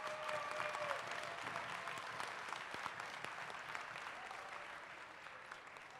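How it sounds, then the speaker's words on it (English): A crowd at a FIRST Tech Challenge robotics league tournament gives a dense, sustained round of applause for the mentors. The clapping runs steadily for about six seconds, easing off only slightly toward the end, with no talking over it. "Let's give a big round of applause for the mentors."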